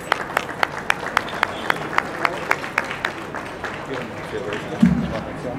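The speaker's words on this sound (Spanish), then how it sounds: "Un aplauso, felicidades" Applause at a workplace recognition ceremony honoring an employee's years of service, sharp rhythmic claps standing out over a softer crowd patter, gradually fading, with murmuring voices beneath.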